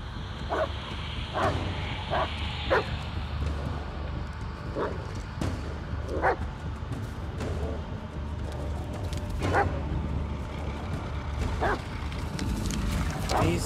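Dog barking in the horror video game Blair Witch, a series of short yips and barks spread over a constant low ambient rumble, moderately near.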